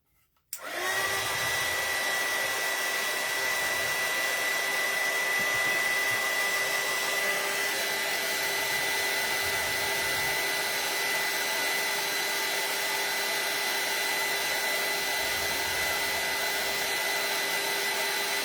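A hair dryer blows wet paint dry on fabric, switching on abruptly and then running as a loud, steady whir close by for the rest of the time, with no voices.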